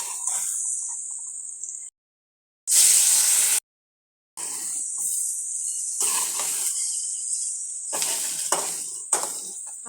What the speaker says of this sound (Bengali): মাছগুলো এপিঠ ওপিঠ ভালো করে ভেজে নিচ্ছি